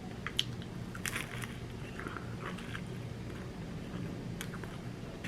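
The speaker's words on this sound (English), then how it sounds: "the bread is not usually that crunchy, but since I put it in the oven, it got crunchy" Crunchy bread of an oven-toasted leftover sandwich bitten into, with a few crisp crackling bites close up over a low background hum.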